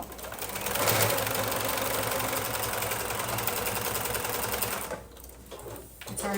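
A sewing machine stitches a Hugs and Kisses quilt top with a fast, steady mechanical chatter for about five seconds, then stops briefly before starting again.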